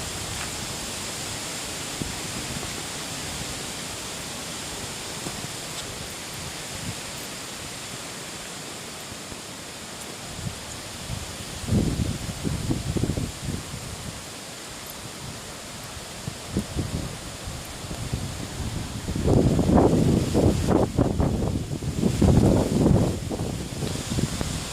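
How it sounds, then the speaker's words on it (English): Strong wind roars through trees on a very windy day near a farm lane. Steady broadband rushing builds into louder gusts in the second half, with no voices. "As you can see with the trees, it is really windy today."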